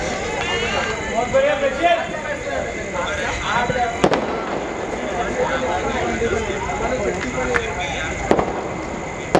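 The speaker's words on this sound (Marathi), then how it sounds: "चांगली गोलंदाजी सुरेख या ठिकाणी आणि फटाक्यांची सुद्धा आतषबाजी होते." Fireworks go off during a local cricket tournament final. Crackling bursts and a few sharp bangs ring out over a busy outdoor crowd background while a voice talks throughout.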